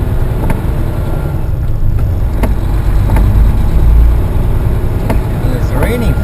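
A heavy haul truck drives along in the rain, a low steady engine rumble with road noise and occasional clicks and knocks, while someone talks.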